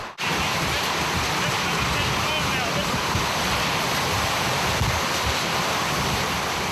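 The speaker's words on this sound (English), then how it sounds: "the wind is fierce and loud" Fierce hurricane wind in Hawaii roars in a loud, continuous broadband rush with heavy buffeting on the microphone, sustained without a break from start to finish.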